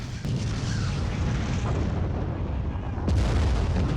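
Dense artillery barrage from a war drama: a continuous roar of heavy, rumbling explosions up close, with a sharp burst near the end.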